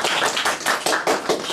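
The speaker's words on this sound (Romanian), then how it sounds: "să-l aplaudăm" A small audience at a poetry circle gathering applauds a poet, a brief close burst of clapping with an uneven pulsing rhythm.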